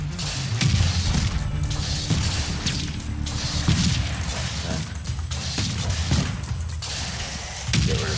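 Missiles firing in the TerraTech vehicle-combat game, a dense, continuous barrage of overlapping launch bursts and impacts at steady loudness, with a few sharper surges, no talking.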